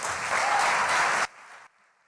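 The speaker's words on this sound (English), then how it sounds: "Can we give Joki another round of applause?" Brief applause after a keynote speech at a class of 2019 congratulatory ceremony, an even wash of clapping that cuts off sharply and leaves a faint trailing tail.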